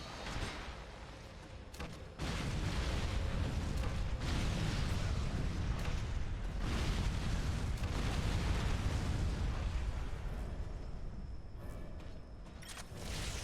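Grenade launcher explosions in Earth Defense Force: Iron Rain, a dense continuous roar of overlapping blasts and rumbling booms, loud and sustained for over ten seconds.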